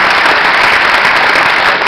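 An audience applauds hairdressers at a local commerce event in Saint-Lô, a loud, dense wash of clapping that holds steady from start to finish.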